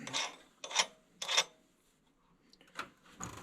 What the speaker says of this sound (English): And we just wind our nut up.